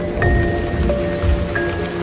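Rain falls on a wildlife habitat where lions rest, a constant close patter and hiss with a few heavier drops thudding low, while held tonal notes hover over the shower.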